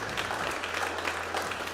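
Mission control team applauding at rocket payload deployment, a short steady burst of clapping from a room of people with a low hum underneath.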